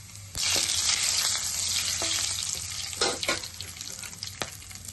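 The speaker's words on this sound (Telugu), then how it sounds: "కడాయిలో ఆయిల్ వేసుకుని ఆయిల్ వేడయ్యాక చెక్క, లవంగ, జీలకర్ర, యాలకులు వేసి బిర్యానీ ఆకు వేసి వేసుకోవాలి." Whole spices — cinnamon, cloves, cumin, cardamom and a bay leaf — sizzle in hot oil in a kadai, a steady broadband fry with scattered pops and a few stirring scrapes, close and fairly loud, no voices.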